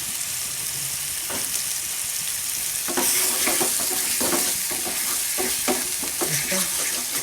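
Boiled chickpea chana masala sizzles steadily in hot oil in a pan while a spoon stirs it, with repeated scraping strokes growing busier through the second half.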